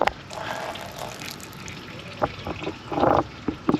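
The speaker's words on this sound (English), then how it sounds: "keep pushing on this bottle, sprays a little coolant down the drain" Coolant from a John Deere 4045T diesel engine on an Atlas Copco 375CFM air compressor spurts from a squeezed bottle down a drain in short, splashy bursts over a faint background hiss.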